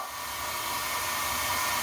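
A hair dryer blows in a steady, close, continuous whoosh while drying dogs after their bath.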